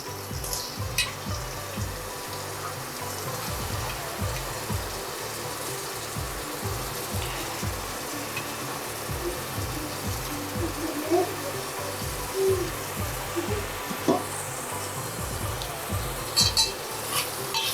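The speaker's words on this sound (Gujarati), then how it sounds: "આ નમકવાળા પાણીમાં બટેટા પલાળીને રાખ્યા હતા, આપણે એ નાખી દઈશું" Potatoes soaked in salt water hit a hot spiced pan for a makhana and potato dish, giving a steady close sizzle with continuous scraping and stirring strokes throughout.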